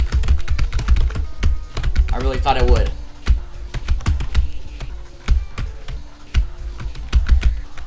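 Rapid computer keyboard presses during play of the Friday Night Funkin' Tricky mod, a dense run of close, sharp clacks in quick rhythm, briefly overlapped by a voice.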